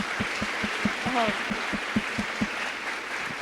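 An audience at a Vice President Harris event on the Bipartisan Safer Communities Act gives steady, rhythmic clapping in fairly even beats. The room sounds muted, and a short voice cuts in partway through.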